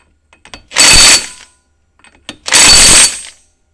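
An impact wrench drives the castle nut onto an ATV axle and knuckle in two loud, close bursts of hammering buzz, each about half a second long, separated by a brief pause.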